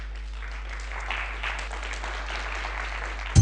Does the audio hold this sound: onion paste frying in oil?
no